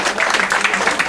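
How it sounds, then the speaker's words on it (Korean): An audience claps in a lecture room, a brief, fairly loud burst of dense applause with no pauses. "와, 박수 한번 주세요. 박수."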